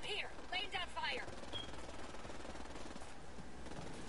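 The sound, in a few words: gunfire in a PS4 video game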